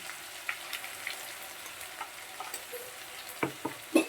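Fish curry masala fries in a pan, a soft continuous sizzle broken by scraping spoon strokes as it is stirred, quiet and close.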